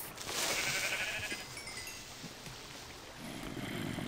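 A sheep bleats in the video game Minecraft, a faint, wavering cry drawn out over a couple of seconds against low background noise, with no one talking.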